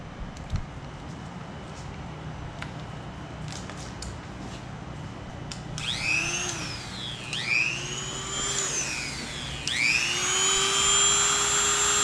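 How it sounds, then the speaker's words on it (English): A Dremel rotary tool grinds the edge of a Kawasaki OEM carbon fiber nose cone upper cowl fairing, its whine swooping up and down in pitch through several short passes over a background hum. "I'm gonna take my Dremel and just try to Dremel this edge a little to see if we can pop this down"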